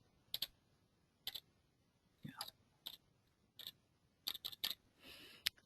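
Short bursts of computer keyboard typing while entering values into QGIS mapping software, several quick clusters of clicks spread across the clip, close and fairly quiet against a low background hum, with no talking.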